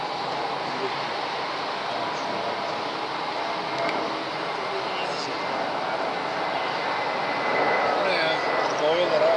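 A Turkish Airlines Airbus A321 with sharklets performs a go-around at Hamburg Airport, its jet engines giving a steady, distant roar that swells slightly near the end, with faint voices of onlookers talking underneath.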